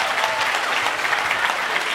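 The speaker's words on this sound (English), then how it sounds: "Give him a big round of applause." A live audience breaks into loud, steady applause at a magic show of illusions, the dense clapping holding evenly for the full stretch with no voices standing out.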